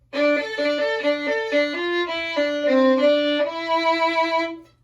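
A violin plays one measure of a song: a bowed melody of short connected notes, clear and close, played alone without talking.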